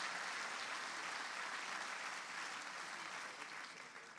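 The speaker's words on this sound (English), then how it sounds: "Give them a nice round of applause" Steady, moderately distant applause from the audience at a World Bowls Championship final, clapping for the press team, holding evenly before tapering off slightly at the end.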